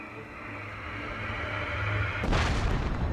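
A ship's cannon fires in The Legend of Zelda: Tears of the Kingdom, a single loud booming blast that erupts after a low rumbling ambience.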